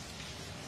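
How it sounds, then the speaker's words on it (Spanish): Heavy rain falling steadily in a dense, even wash of sound, close and continuous with no voices, on a street where people are chatting during a downpour. "¿Qué tal esta lluvia? Muy fuerte."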